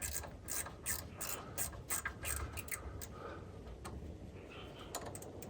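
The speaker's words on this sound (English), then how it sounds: "ratchet wrench the other direction" A ratchet wrench clicks on a brake bleeder of a 1978 Chevy C10, close and moderately loud, with bursts of quick pawl ticks in short strokes separated by pauses and some scraping handling noise.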